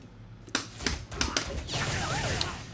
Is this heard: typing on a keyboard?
yes